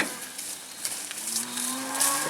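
Cattle on a farm, including the lead cow, give a single drawn-out moo that slowly rises in pitch, heard clearly on its own with no talking.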